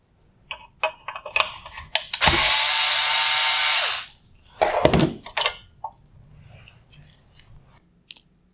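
A power driver whirs steadily for about two seconds, backing a T20 Torx screw out of an LED headlight unit from a 2019-2021 Jeep Cherokee, with clicks and plastic handling sounds before and after.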